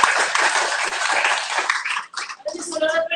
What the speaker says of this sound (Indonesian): Berikan tepuk tangan saudara.